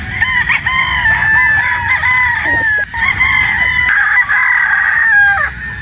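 A yellow-legged hatch gamecock rooster crows loudly and close, several drawn-out calls in a row at a game farm, with some clucking and no talk.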